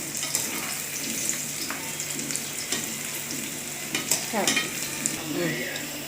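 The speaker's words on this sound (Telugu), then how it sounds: "మంచిగా రావాలంటే సిమ్లోనే వేయించుకోవాలి మరి నిండుగా కాకుండా కొంచెం లైట్గా వేసి మరీ వేయించుకుంటే బాగుంటుంది" Cauliflower pieces for gobi manchurian deep frying in hot oil on low heat, a close, continuous sizzle with occasional stirring clinks and bubbling bursts, no talking.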